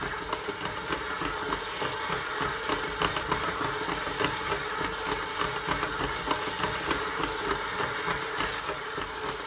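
A stand mixer kneads soft brioche dough for burger buns at speed, giving a steady, close mechanical whir with a faint rhythmic churn that runs continuously throughout, with no talking.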